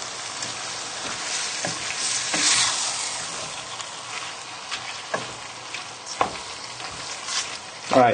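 Beef mince browns in a frying pan for a spaghetti bolognese, a steady close sizzle broken by a few sharp stirring scrapes and clicks, with a louder burst of crackling at the end.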